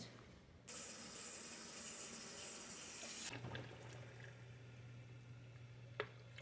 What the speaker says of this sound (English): I'm just gonna get some hot water and fill it up.